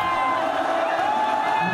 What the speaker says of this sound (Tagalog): Lalong lumakas ang hiyawan nang i-anunsyo na ang nanalo sa laban.